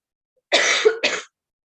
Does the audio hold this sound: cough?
yes